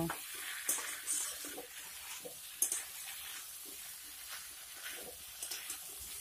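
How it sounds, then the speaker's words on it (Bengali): Mixed vegetables fry in a pan over a medium-low flame, with a faint, steady sizzle and soft intermittent stirring and scraping sounds. "চুলার আঁচটা মিডিয়াম টু লো ফ্লেমে রেখে এইগুলিকে দুই থেকে তিন মিনিট ফ্রাই করে নেব"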